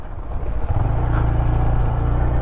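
A 2022 Honda Grom ADV motorcycle rides an off-road trail, its small engine giving a close, loud, steady drone that swells and settles into a constant rumble partway through.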